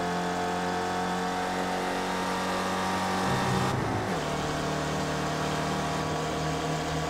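Spec Racer Ford race car engines lapping the NJMP Thunderbolt circuit in a racing simulator, a steady droning engine note that holds loud and continuous, with a brief pitch shift and revving change partway through.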